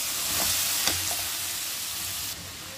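Tomatoes frying in masala for a karela dish make a steady close sizzle throughout, with a few faint stirring scrapes and no talk.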